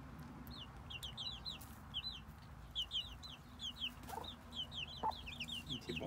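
Hens cluck repeatedly in quick short bursts, fairly close but soft, over a low background hum in a backyard flock.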